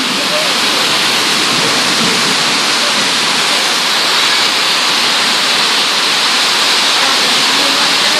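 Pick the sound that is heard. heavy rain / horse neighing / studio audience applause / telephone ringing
heavy rain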